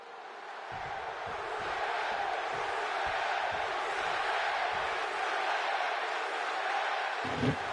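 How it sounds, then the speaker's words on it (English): Wrestling arena crowd at a televised RAW event cheering in support of Rusev, a steady loud roar of many voices with scattered shouts and whoops throughout, rising slightly and holding. "And the crowd supporting Rusev"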